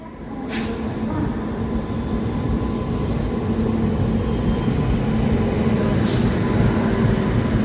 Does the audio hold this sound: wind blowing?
no